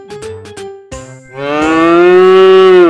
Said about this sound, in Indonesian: Seperti ini suara sapi.